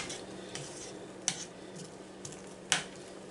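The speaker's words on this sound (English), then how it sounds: "And just let this cook just a little bit until the green peppers and onions gets a little soft." Ground beef with green peppers and onions cooking in a pan for sloppy joes, a low steady sizzle with a few sharp clinks of a utensil against the pan.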